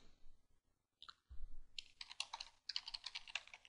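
Typing on a computer keyboard while selecting users in Citrix software, a quick run of close, crisp key clicks that starts after a short pause and continues in dense bursts, no voices.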